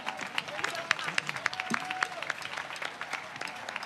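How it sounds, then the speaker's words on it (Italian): An audience at a 2013 music event in Savignano sul Rubicone claps in a scattered, moderate burst of applause, with a voice briefly heard amid the clapping. "Un applauso per tutti loro."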